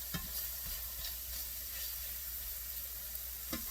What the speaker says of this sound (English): While I get the steak stirred.